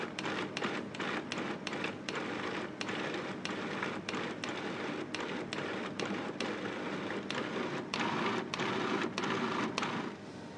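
A food processor purees chicken mousse in a steady, dense whir broken by rapid clicking pulses, continuous and close throughout.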